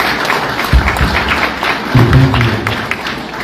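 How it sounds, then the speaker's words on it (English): Applause from the audience at a breakfast gathering with Kenyans in the USA, brief and uneven, with a few louder claps and some low crowd noise, no clear talk. "Let's give a hand clap once again"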